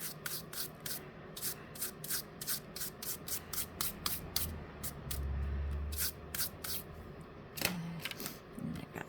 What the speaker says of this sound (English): you won't feel the texture when you're dragging your eraser across it